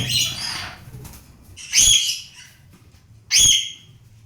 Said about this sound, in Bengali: লরিকেট লরিকেট পাখিটা খুব সুন্দর